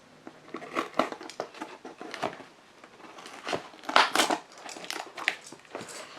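Packing tape on a cardboard box being scored and cut, heard as irregular close crunching, crinkling and scraping bursts with no talk.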